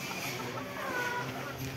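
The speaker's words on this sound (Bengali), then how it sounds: "আর মুরগি ডিম পাড়ার জন্য ডাকাডাকি করতেছে।" Farm hens in a Bangladeshi home poultry and pigeon setup cluck and call before laying eggs, soft and somewhat distant under a steady noisy background, with a voice speaking faintly over them.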